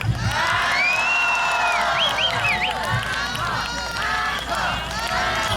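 Thousands of concertgoers at an outdoor seaside evening concert shout, whoop and cheer together in a loud, sustained roar, with voices rising and falling over about six seconds.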